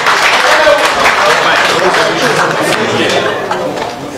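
An audience at a Paris album presentation applauds a woman with a dense burst of clapping that stays steady, then eases slightly, while voices carry over it.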